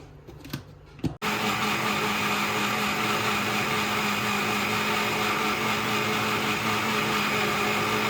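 A kitchen mixie blends juice with two glasses of water, starting after a second of small clicks and knocks, then whirring steadily and loudly with a strong motor whine until the end.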